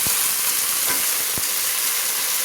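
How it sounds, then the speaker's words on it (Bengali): A ginger, green chili and tomato paste fries in hot oil, sizzling loudly and steadily up close, with a few soft knocks of stirring and no talking. "সেই পেস্ট করা মশলাটা আমি দিয়ে দিচ্ছি। দিয়ে ভালো করে আমি তেলের মধ্যে কিন্তু কষিয়ে নিচ্ছি।"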